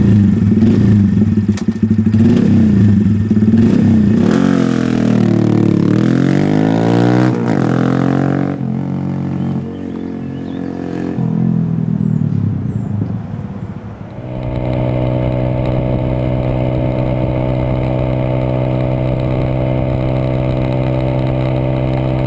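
A Honda Grom motorcycle rides and accelerates, its engine revving up through rising pitch sweeps, dropping back, then settling into a steady loud drone close by with wind noise.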